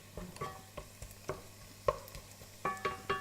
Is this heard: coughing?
no